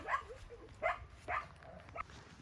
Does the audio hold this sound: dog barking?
yes